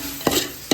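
Spoon strokes stir coriander through a chicken biryani mixture of seeraga samba rice, with two short scraping pushes over a soft background sizzle and no talking.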